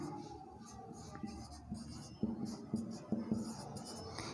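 Marker or chalk writing on a board during a chemistry lesson, a series of faint scratchy strokes building to a few sharper taps, soft and close, with quiet room tone and no clear speech.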